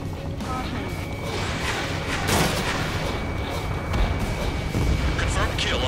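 Missile blasts and gunfire boom through an Ace Combat 7 air battle, heavy rumbling explosions swelling around 2.5 and 4 seconds, with radio chatter running beneath.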